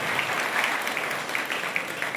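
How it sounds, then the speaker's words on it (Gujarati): Audience applause at a community award ceremony, steady moderate clapping from a crowd, slightly distant and even throughout. "જોરદાર તાળીઓથી વધાવો."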